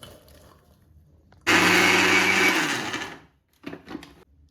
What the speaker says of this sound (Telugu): ఇలా ముందుగా ఒలిచి పెట్టుకున్న మొక్కజొన్నని మొత్తం మిక్సీ చేసుకోవాలి